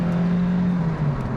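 JDM sports car engine revving, a loud sustained mechanical drone held steady and close for a brief moment.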